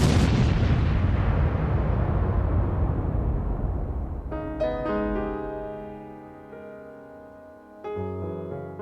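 Gunfire and explosion effects from The Goon Show: a loud, rumbling blast that decays over several seconds, followed by sharp, ringing metallic bangs and a second heavy thud near the end.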